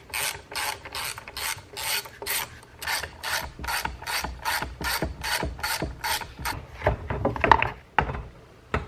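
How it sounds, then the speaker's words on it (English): Bolts on the air box of a cheap Poulan Wild Thing chainsaw being backed out with a ratchet, a steady run of close, loud clicking strokes with a brief scrape of tool on plastic near the end. "I just pulled off the air box here."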